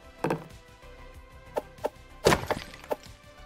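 Hammering during repairs in the Sunset Motel game, with a handful of sharp, separate wooden knocks at irregular spacing against a faint background hum.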